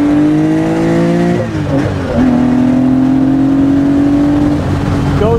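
A 1972 Porsche 911 T with a 2.8-liter electronically fuel-injected flat-six and wild cams accelerates hard, its loud engine note rising steadily through the gears with a brief dip at a shift, heard close from inside the car.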